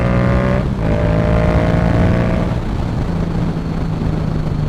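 A Yamaha MT-07 motorcycle with a Yoshimura exhaust accelerates hard, its loud engine note rising steadily in pitch through the gears, close and continuous.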